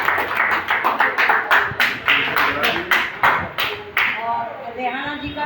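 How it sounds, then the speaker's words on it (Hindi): Applause from an audience at a community service society's Hindi-language function, a burst of dense clapping with sharp rhythmic claps that thins and fades out near the end. "जोरदार तालियां भाई हो जाएं"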